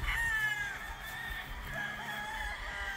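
A DBH Black Straight Comb gamefowl rooster crows once at a gamefarm, a long, close, strained call that rises and then trails off over a steady outdoor background noise.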